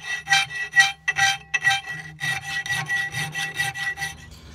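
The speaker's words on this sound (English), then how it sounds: "We're going to file these tang shoulders to square and, you know, flush so they'll accept a guard and everything" Rhythmic rasping strokes of a hand file on the iron tang shoulders of a forged Viking seax, close and loud, with steady back-and-forth passes and short pauses between them.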